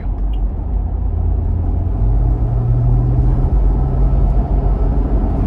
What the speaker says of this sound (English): I'm going to give it a little pull here getting on the interstate.